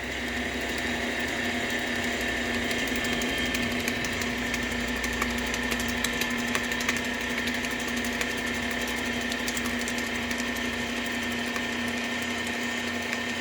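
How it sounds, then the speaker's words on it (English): A KitchenAid stand mixer runs steadily, a constant motor whine and hum with faint rattling, mixing pizzelle batter, with no break for the whole stretch. "Where'd you get this KitchenAid?"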